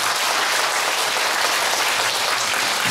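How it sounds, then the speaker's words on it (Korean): An audience clapping together in a hall, a dense, steady round of applause at even loudness throughout, with no voices over it. "네, 박수 한번 치세요"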